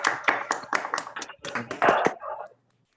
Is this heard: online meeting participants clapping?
yes